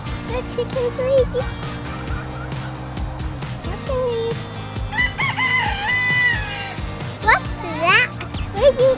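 A rooster crows at a farm amid other fowl clucking, with children and adults talking throughout the busy outdoor scene.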